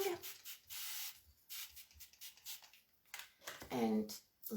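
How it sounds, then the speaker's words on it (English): Repeated short hissing bursts of paint being sprayed onto a wooden table during a distressed, worn-look makeover, several spurts with brief pauses, a voice talking briefly between them. "now we are spraying,"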